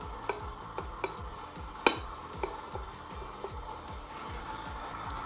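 Electric stand mixer on its lowest speed working shortbread dough as flour is added, a soft steady rhythmic churn with regular beater sweeps and a few light knocks against the bowl.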